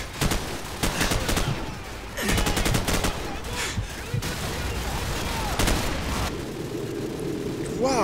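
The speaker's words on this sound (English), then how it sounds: "what's with all the grenades?" Dense, continuous gunfire and grenade blasts from a Call of Duty 4: Modern Warfare battle, rapid bursts of shots layered over booming explosions that roll on nearly without pause, loud and busy throughout.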